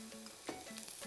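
Onion sizzles in a pan as the base for a mushroom risotto, a steady hissing fry close by with a brief stirring scrape partway through.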